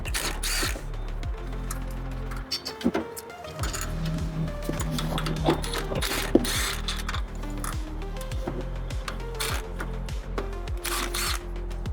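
Four 12 mm bolts coming off a 2008 Honda Ridgeline engine during a valve adjustment, heard as a steady run of close, repeated mechanical clicks and ratchet-like ticks over a constant low hum, with a short pause partway through.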